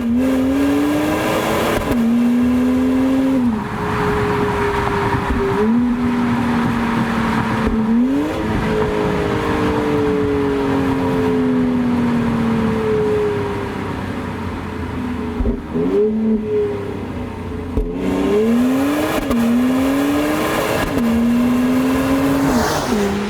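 A 2025 BMW X3 M50 with an 8-speed ZF transmission accelerates hard from inside the cabin, its engine note rising and dropping sharply at each quick gear shift, repeated several times over a steady road rumble.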